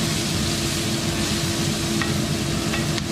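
Onions sizzle in a pan as they brown for chicken paprika, a steady dense frying hiss with occasional soft stirring scrapes, close and continuous with no talk.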